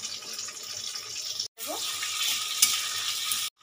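Chopped tomatoes with salt sizzle steadily in a pan for Bengali dhokar dalna, a bright hissing fry that cuts out briefly, then returns loud and close.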